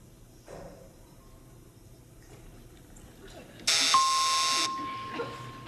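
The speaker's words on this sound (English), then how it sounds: "Buzzer just beat you out there, Barbara." Game show buzzer on a televised quiz, a loud, steady electronic blast of about one second cutting in sharply over faint background murmur, followed by a sustained tone as it fades.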